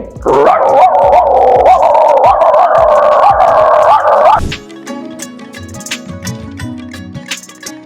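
A man imitates a barking dog, his voice rendering a loud, continuous run of rhythmic barks and yelps for about four seconds before it stops abruptly, leaving softer background sounds.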